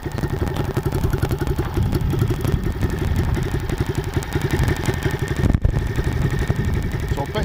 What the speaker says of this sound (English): It's got a sweet little exhaust on it as well.